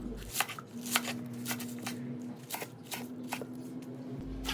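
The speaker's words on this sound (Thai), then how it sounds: "หั่นต้นหอมต่อเลยครับ" A knife chops spring onions on a cutting board while stir-fried liver with onions is prepared, giving quiet, quick, somewhat irregular taps over a low steady hum.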